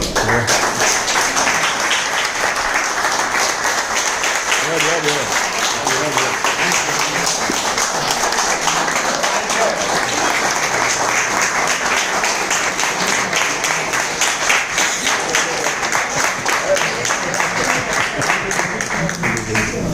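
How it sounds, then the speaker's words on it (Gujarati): Loud, sustained applause fills a hotel meeting hall as an audience claps energetically and continuously for about twenty seconds, with no break in the dense patter of hands. "જોરદાર તાળીઓ"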